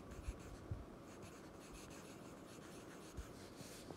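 A pen scratches across paper while a number is written out in words, a faint rubbing scrawl broken by a few soft taps, close and quiet.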